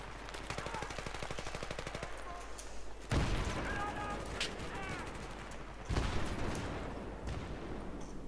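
A grenade blast in the video game Battlefield 3 lands amid rattling gunfire, with sharp heavy bursts near three and six seconds standing out over continuous shooting and muffled voices.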